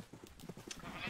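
Sheep in a farming video game let out a quick series of soft, wavering bleats, close together over about a second against low background hum.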